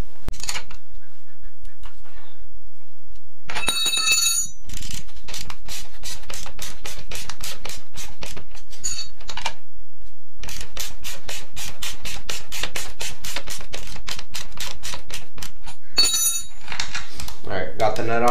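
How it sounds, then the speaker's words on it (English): A rear axle bolt on a Kawasaki KLX110L is loosened with a ratchet, producing loud, close bursts of rapid clicking broken by brief pauses. "Then I'm going to loosen the rear axle bolt."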